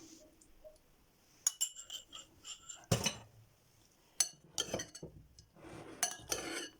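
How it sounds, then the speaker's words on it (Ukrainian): Green bean and chicken breast salad with garlic dressing being tossed in a bowl, with clusters of sharp utensil clinks against the dish, close and intermittent between short quiet gaps. "перемішую"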